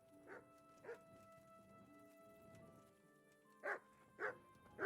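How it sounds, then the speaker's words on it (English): A dog gives short yips and barks, a pair early on and then three louder ones spaced near the end, against a quiet indoor background with a steady electronic hum. "Doggy."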